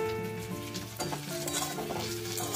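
Chopped garlic and a little onion sizzling and frying in hot oil with whole spices for a dal tempering, a steady crackling hiss close by with stirring scrapes and no talk.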